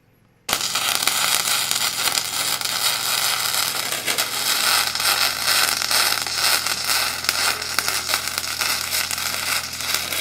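MIG welding beads laid onto a cut and ground sheet metal hood patch for a Simplicity 4040 Powermax tractor: a sudden start into loud, continuous sputtering crackle that runs steadily to the end, close up and alone.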